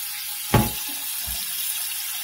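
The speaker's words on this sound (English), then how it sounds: "Now I'm going to give it a wash in the sink, rinse out, and I'll show you what it looks like." Warm water runs in a kitchen sink while a Ninja Foodi NeverStick pan is washed with a regular sponge, giving a soft steady wash of water and a sharp splash or clunk near the start, with no talking.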